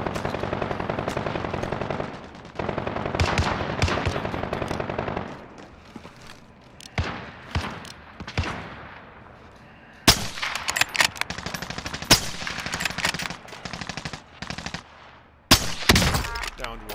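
Rapid gunfire in Call of Duty: Modern Warfare: loud automatic bursts and single shots come in clusters, with short quiet gaps and sharp cracks near the end.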